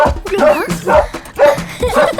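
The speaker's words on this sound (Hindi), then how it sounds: "अरे भौंकते तो सभी कुत्ते पगली।" A dog barks in four quick, yipping bursts at an even rhythm, loud and close, with other voice-like sounds mixed in between the barks.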